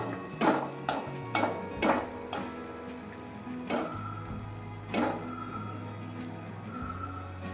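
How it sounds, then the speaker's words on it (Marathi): Anarse, jaggery pastries, frying in hot ghee as ghee is splashed over them: a steady sizzle with a run of sharp spattering bursts, several in quick succession and then a few spaced pops, close and fairly loud. "अनारसा तुपात टाकल्यानंतर थोड्या वेळानेच आपण असं तूप उडवायचं"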